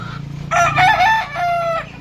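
A White Kelso gamefowl rooster crows up close, loud and clear in one drawn-out call with a rising start and a falling tail, over a low background hum.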